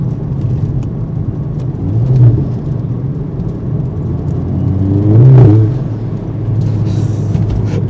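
A VW Golf GTI accelerates hard in third gear with its wheels spinning, a loud close engine roar that swells twice as it revs, with no talking.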